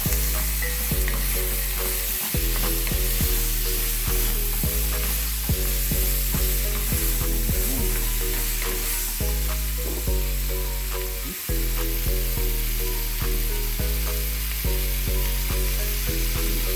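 Sweet pepper, onion and carrots fry in a pot with a loud, steady sizzle and occasional stirring, over a constant tonal hum that runs throughout.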